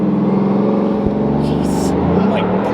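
A car accelerates hard with a loud, droning exhaust, engine pitch climbing steadily through the run, heard from inside the cabin as passengers exclaim over it.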